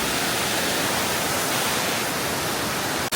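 Waterfall in Costa Rica heard up close as a loud, dense, steady hiss of rushing water, unbroken and without voices until a brief dropout at the very end.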